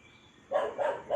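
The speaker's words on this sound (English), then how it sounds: "the dogs are just having a bark fest again with the neighbor dogs from afar." Three quick dog barks in a row, fairly close and loud, after a moment of quiet.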